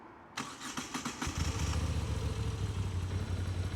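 A Moto Guzzi V7 Special MK IV motorcycle engine cranks with a few sputtering bursts, catches, and settles into a steady, throbbing idle close by.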